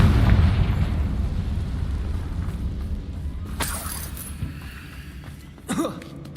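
A Confringo blasting spell in Hogwarts Legacy detonates with a heavy boom and rumbling debris that fades over a few seconds, followed by sharp cracking bursts.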